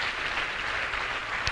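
A church congregation applauds together in a steady, dense wash of clapping that holds at an even level, with one sharper clap standing out near the end.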